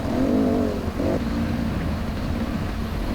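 Dirt bike engine droning loud and steady while riding a rough rocky track section, with a brief rising rev tone near the start and a continuous low rumble mixed with wind and jostling noise throughout.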